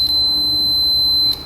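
Continuity tester beeping across a good ATV fuse: one steady, loud, high-pitched tone that holds unbroken for over a second, then cuts off abruptly.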